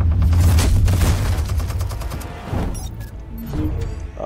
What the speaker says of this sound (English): He's got a Gatling gun